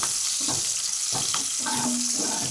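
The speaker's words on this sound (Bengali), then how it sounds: "পেঁয়াজ কুচি আর লঙ্কা কুচি ভালো করে একটু ভেজে নিতে হবে" Chopped onion and green chilli fry in a pan for a fish curry, making a brief, continuous hissing sizzle with a few soft stirring scrapes, close and fairly loud, with no voices.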